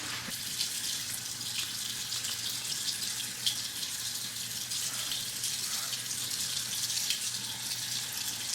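Steady tap water running into a sink while a face is rinsed, a constant close splashing hiss lasting throughout with no voices.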